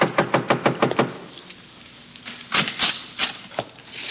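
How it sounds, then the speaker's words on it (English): Radio drama sound effect of knuckles rapping on a wooden door: a quick run of about seven sharp knocks, a pause, then a few more scattered knocks, close and crisp. "I'm knocking at the door."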